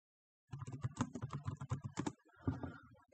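Quick keystrokes on a laptop keyboard, a close, crisp burst of clicking for about a second and a half, a short pause, then a few more taps.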